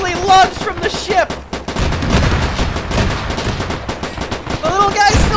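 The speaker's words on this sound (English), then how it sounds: "That AA gun's now suppressing them." Anti-aircraft gun fire in the Arma 3 video game during a WW2 ship battle, loud rapid bursts of gunfire and booms, with excited voices talking at the start and end.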